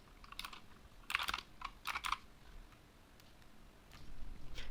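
Typing on a computer keyboard: scattered light key clicks in short bursts, close and fairly quiet, with pauses between groups of keystrokes.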